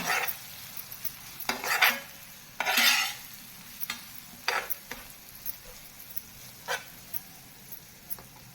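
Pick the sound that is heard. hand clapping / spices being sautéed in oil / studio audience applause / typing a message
spices being sautéed in oil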